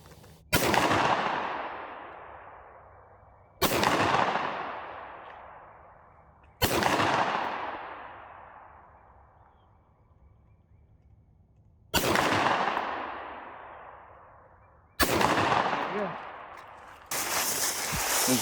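Five loud pistol shots fired handheld with iron sights at 40 yards, spaced a few seconds apart, each a sharp crack with a long echoing decay outdoors, and a sixth fainter burst at the end.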